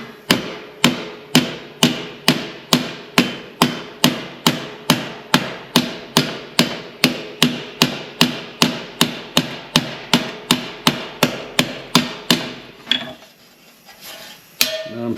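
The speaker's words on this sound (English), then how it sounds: "Yeah, I'll have to use the cross peen a little bit." Cross peen hammer striking sheet metal for a nomad build, a long, evenly paced series of sharp ringing metallic blows, close and loud, stopping near the end with a couple of scattered taps.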